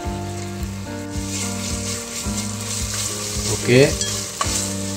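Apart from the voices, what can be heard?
frying ginger garlic paste with onion and chicken legs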